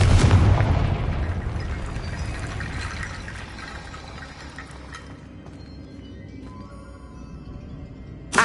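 In Hogwarts Legacy, the Confringo fire spell strikes with a loud, deep boom at the start, then a long rumbling, crackling decay that fades over several seconds.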